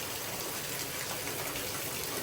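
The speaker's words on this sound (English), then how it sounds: "But it is raining very hard." A hard downpour falls during a severe thunderstorm with gusting wind, a constant close hiss of rain hitting surfaces at full strength, alone and unbroken.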